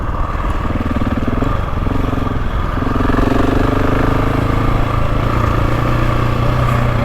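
A GasGas dirt bike engine drones loud and close while riding, holding a continuous buzzing note that shifts slightly in pitch as the throttle changes.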